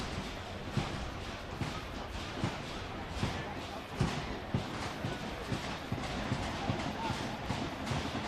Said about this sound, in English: Crowd starting to stomp their feet here at Hart Health Park, trying to get some energy in the building.